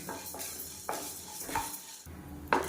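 Urad dal and chana dal roast with a little oil in a kadai as a spoon scrapes and stirs through them, giving short rasping sweeps and a few metallic clinks over a faint sizzle, with no talking.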